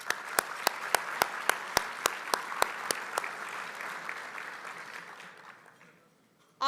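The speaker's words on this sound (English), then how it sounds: "Please join me in a round of applause for the chef." Audience applause for the chef at a city luncheon, starting with a few sharp individual claps over a broad wash of clapping that fades away over several seconds.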